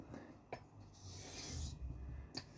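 A corroded straight razor edge is honed on a coticule stone with a coarse slurry. Quiet, gritty rubbing strokes sweep back and forth with a few sharper scrapes, close and soft, with no voices.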